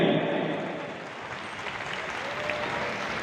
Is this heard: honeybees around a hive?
no